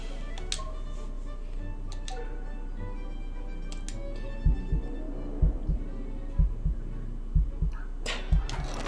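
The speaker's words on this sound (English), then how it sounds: "When you hear that heartbeat, it's gonna work." In the card-cheating video game Card Shark, a heartbeat effect thumps in evenly spaced double beats, starting midway and repeating about five times over a low droning hum.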